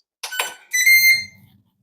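A Ninja air fryer gives two quick electronic beeps when finished, then a longer steady tone with bright harmonics, loud and close, with no talking.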